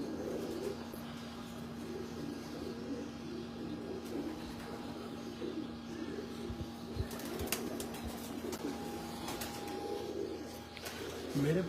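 Pigeons coo softly on a Lahore rooftop, a steady low murmur of calls with a few brief flutters and faint background noise, no voices.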